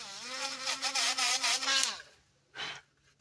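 A small drill whines with a buzzing, pitched hum for about two seconds as it bores into resin, then a brief second burst after a pause.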